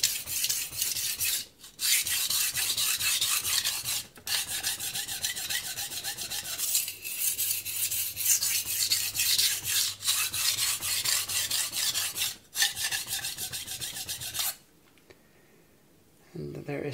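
Knife blade drawn across a Morihei Karasu 9000 grit whetstone in long, steady rasping strokes separated by brief pauses, close and loud, with quiet talk near the end.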